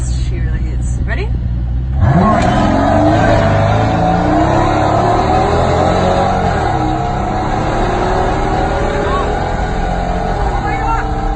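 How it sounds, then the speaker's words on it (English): A supercar's engine surges loudly through a rising acceleration run at speed, a continuous close roar with shifting pitch that holds for several seconds after a brief lead-in. "But what you really feel is the sound from the engine."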